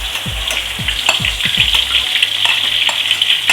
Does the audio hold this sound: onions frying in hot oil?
yes